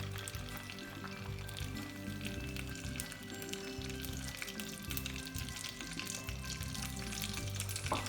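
Butter and vegetable oil melt in a frying pan with a soft, low sizzle, while a steady tonal hum from music or a kitchen appliance runs beneath it the whole time.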